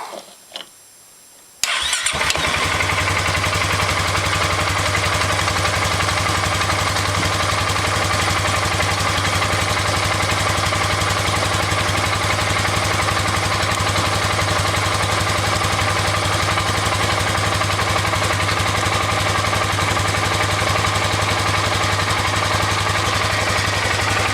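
Polaris Sportsman 570 ATV engine cranks and catches after a short quiet moment, then runs steadily at idle with a constant low hum and mechanical rattle, close and loud throughout.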